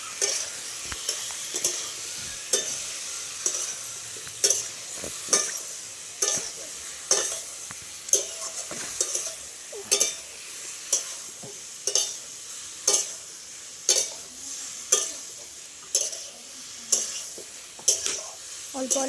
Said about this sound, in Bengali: বেশ ভালো করে অনেকক্ষণ ধরে নেড়ে চেড়ে নেবো।